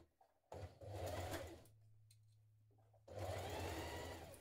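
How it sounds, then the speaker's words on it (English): A twin-needle sewing machine stitches an underwear seam in two short, quiet whirring runs with a pause between them, close up and with no talking. "I'm going to stitch over that now"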